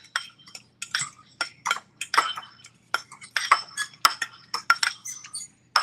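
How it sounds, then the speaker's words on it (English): Egg and mozzarella cheese being mixed together in a bowl, with an irregular run of close, bright clinks and taps of a utensil against the bowl and no voices. "So you just mix that in with your egg"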